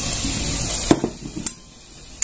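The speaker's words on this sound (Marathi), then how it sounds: "छान असं हलवून घ्यायचं पुन्हा।" Besan modak mixture stirred in a pan with a spoon on low heat, a steady sizzling scrape that cuts off into a few knocks and clatters against the pan, close by, with no talk.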